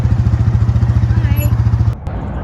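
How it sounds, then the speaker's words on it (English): A vehicle engine in a remote desert, a loud, close, steady pulsing mid-pitched drone that cuts off abruptly near the end, leaving a lower, quieter rumble. "right before the sound of an engine interrupts the silence"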